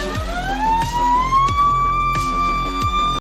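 A loud, close siren on a vehicle running as an ambulance wails in a rising then steady tone, with regular clicking pulses repeating beneath it throughout.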